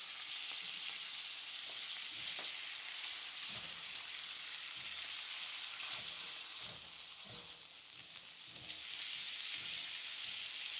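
Onions frying in a cast iron pan make a continuous, close sizzle and crackle. Repeated stirring scrapes come at a loose, regular rhythm throughout, and there is no speech.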